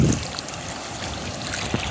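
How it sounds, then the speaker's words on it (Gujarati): Fast-flowing rainwater rushes along a road during heavy rain, a steady, close gurgling stream with a brief splash at the start. "પાણી બહુ અતિ અહીંયા તેજ જાય છે અત્યારે"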